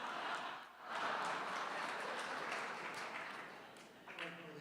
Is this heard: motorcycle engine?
no